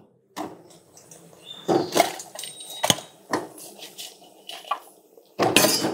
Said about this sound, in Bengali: এখন আপনি এর মধ্যে দিয়ে দেবেন ভেজে রাখা গজাগুলো।